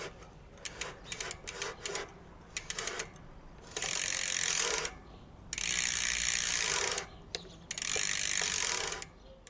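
Bicycle wheel spun by hand on a bike with disc brakes, its freewheel ratchet clicking in quick bursts, then three longer runs of dense, steady buzzing clicks, close and clear with no talk.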